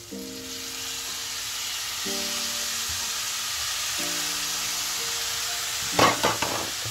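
Bopis being stirred in a frying pan after a spoonful of vinegar is added, a steady sizzle and frying hiss running throughout with a few sharper scraping stirs near the end.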